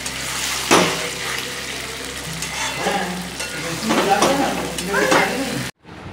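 Chicken added to onions already fried in a pan sizzles with a steady broadband hiss, a sharp clatter near the start and a few scraping knocks through the middle before the sound cuts off abruptly near the end.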